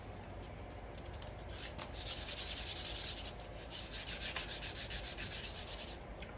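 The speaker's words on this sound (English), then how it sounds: "this is just one that would go on my sanding wheel machine thing" A steady abrasive rubbing and grinding of a sanding wheel against painted wood, close and continuous, with slight rhythmic pulsing throughout.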